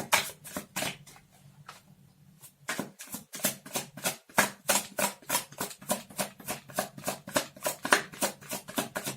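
Crisp, rapid riffling of tarot cards being shuffled, a brief quiet pause, then a long run of regular rhythmic flicks close by.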